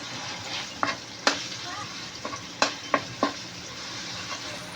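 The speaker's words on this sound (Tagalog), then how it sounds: "Ngayon, lalagyan natin ang ating giniling." Ground meat sizzles in a pan with string beans and guava, a steady frying hiss broken by several sharp scrapes and taps of a spatula stirring and breaking up the meat.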